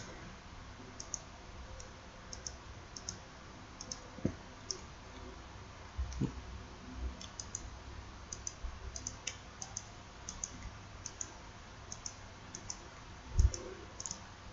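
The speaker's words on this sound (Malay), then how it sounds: "Ni klik je, jangan drag" Light computer mouse clicks while editing in Photoshop: faint, sparse single clicks scattered at an irregular pace over a quiet background.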